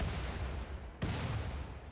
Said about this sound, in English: We're hitting it with the cannons from a distance.